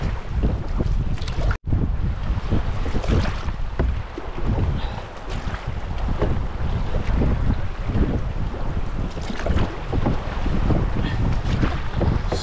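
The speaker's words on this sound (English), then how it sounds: "These are the biggest waves we've been dealing with on the whole trip." Big waves and strong wind buffet a canoe paddling on a large lake, with loud, gusty wind roar over the microphone and water sloshing against the hull continuously.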